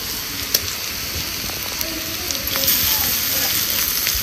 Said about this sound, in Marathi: चांगली आपल्याला ह्याच्यात कांद्यात परतून घ्यायची.